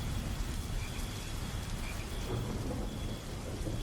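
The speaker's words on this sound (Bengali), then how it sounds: "শুরু হয়েছিল প্রবল বেগে বৃষ্টি" Heavy rain pours steadily on a stormy night in a Bengali horror cartoon, a dense continuous hiss of drops on surfaces with no voices.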